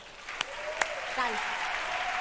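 Applause rises from a theatre audience at an opening gala as two comedians come on stage, a few sharp claps first, then a steady wash of clapping under a brief spoken word.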